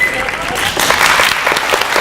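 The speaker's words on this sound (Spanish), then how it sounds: "Un fuerte aplauso para todos." Studio audience applause on a Spanish radio-style comedy show, a dense burst of clapping filling the short clip at steady, fairly loud level with some crowd noise mixed in.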